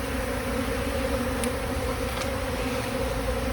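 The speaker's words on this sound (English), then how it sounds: "Ah, the joys of swarm season and being a beekeeper." Swarming honeybees buzz in a steady, dense drone outdoors during swarm season, continuous and moderately loud with a faint buzz of a single bee passing nearby.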